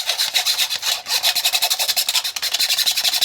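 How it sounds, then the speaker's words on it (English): Matcha powder scraped and pressed to make it finer, a fast, steady run of close, dry rasping strokes that continue without pause and with no voices. "You're scraping it down. You're making your matcha finer."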